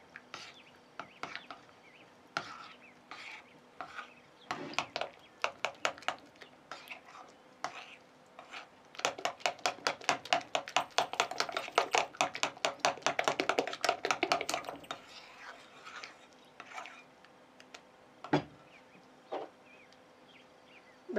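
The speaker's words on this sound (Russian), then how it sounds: "Разрыхлитель. Все перемешиваю." Cupcake batter with baking powder is mixed in a bowl. Quick, light clicking strokes come in a fast burst through the middle, with softer scattered taps before and after, close by and fairly quiet.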